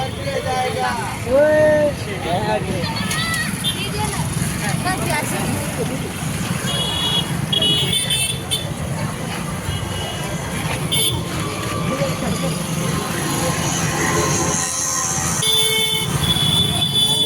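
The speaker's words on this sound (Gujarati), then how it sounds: "રવિવાર છે ને ટ્રાફિક બહુ જ છે." Dense Sunday road traffic on a busy market street in Surat, a steady close roar of engines broken by repeated short horn toots scattered throughout, with people chattering nearby over the din.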